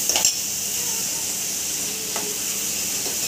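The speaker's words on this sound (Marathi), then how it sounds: "आणि कांद्यांना पण गोल्डन होईपर्यंत आपल्याला परतून घ्यायचे" Onions sauté until golden in a hot pan, giving a continuous bright sizzle with a couple of brief stirring scrapes near the start and again around midway.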